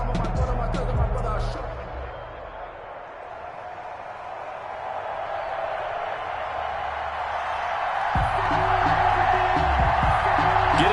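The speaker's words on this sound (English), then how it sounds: "This crowd is ready as their guys get set to match up between the Indianapolis Colts and the Denver Broncos." Stadium crowd in an EA Sports NFL video game, Colts against Broncos, roars steadily throughout, dipping slightly then swelling louder near the end, with a low musical or broadcast bed beneath.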